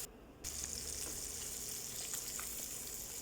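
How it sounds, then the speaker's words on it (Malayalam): Marinated fish coated in ginger-garlic paste and salt fries in oil in a pan, giving a steady, close, continuous sizzle that starts abruptly and holds at an even level with no talking. "ഒരു പാൻ അടുപ്പിൽ വെച്ച് കുറച്ച് എണ്ണ ഒഴിച്ച് മീൻ വറുക്കാവുന്നതാണ്"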